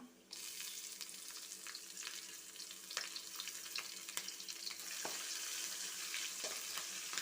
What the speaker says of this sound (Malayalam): ഇത് ഒന്ന് പതുക്കെ മൂപ്പിക്കെടുക്കണം